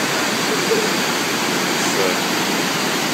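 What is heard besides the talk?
Plaisance waterfall in Quebec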